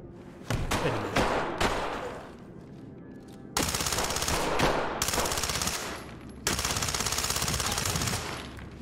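Rapid automatic gunfire in the tactical shooter Ready or Not, loud bursts separated by short pauses, with shots fired at close range through a wooden wall; no talking is heard.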